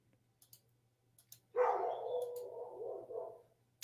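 Dogs bark and howl somewhere outside a window: a few faint clicks, then one sustained, muffled burst of barking lasting about two seconds, moderately distant and fairly quiet, with no talk.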